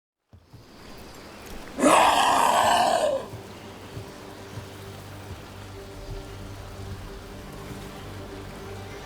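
Steady rain hiss on surfaces in Dragon Age: The Veilguard, with a loud whooshing burst around two seconds in, then an even, moderate downpour that carries on alone to the end.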